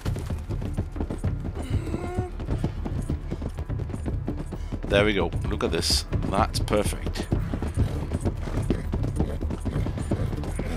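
Steady clip-clop of horse hooves in a regular trotting rhythm in Red Dead Redemption II, heard throughout alongside game sounds, with someone talking over it.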